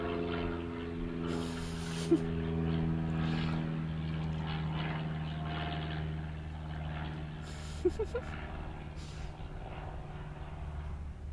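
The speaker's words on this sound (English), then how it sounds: "It's an aeroplane." A propeller plane drones steadily in the distance with a low hum, with a couple of faint clicks and knocks nearby.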